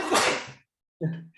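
A single sharp sneeze bursts out close by, followed after a brief silence by a short burst of voice.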